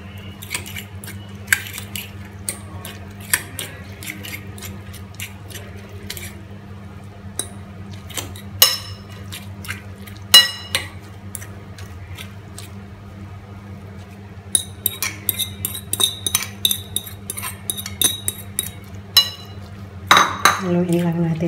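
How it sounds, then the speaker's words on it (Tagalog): Shredded potato being stirred into beaten egg in a bowl, with scattered clinks and scrapes of a utensil against the dish and a steady low hum beneath. "Haluin lang natin siya mabuti."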